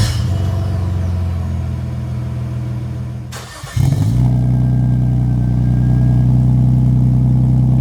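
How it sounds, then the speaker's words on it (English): A car with a custom catback exhaust hums at a steady idle, then cuts out briefly before firing up again on a cold start, settling into a loud, deep, rumbling idle close by. "Starting with the cold starts."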